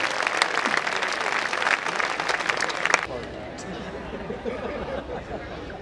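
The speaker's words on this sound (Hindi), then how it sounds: "मैं चाहता हूं कि पूरा सदन भरपूर तालियों के साथ हाथ उठाकर स्वागत करे" Audience applause at a Hindi kavi sammelan poetry gathering, a dense burst of many hands clapping for about three seconds that cuts off abruptly and leaves a murmuring hall behind.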